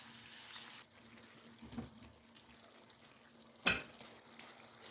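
Mixed vegetables with palak simmer in a pan as the water cooks off, giving a faint, soft, steady sizzle with a few brief clinks of a utensil.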